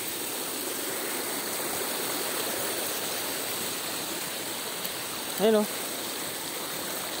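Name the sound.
Batlag Falls waterfall flowing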